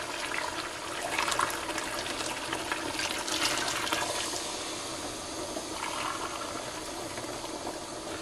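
Two cups of hot water poured from a vessel into a cooking pot over sautéed meat and tomato juice: a steady, close rushing splash for about four seconds that eases into a softer trickle.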